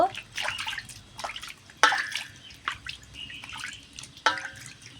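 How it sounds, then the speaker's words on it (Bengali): Two palm fruits being washed with water in a village kitchen, heard as intermittent splashes and drips with a few sharper knocks and pours, at moderate loudness with no speech. "তার জন্য দুটো তাল নিয়ে নিয়েছি এই যে জল দিয়ে ভালো করে পরিষ্কার করে ধুয়ে নেব"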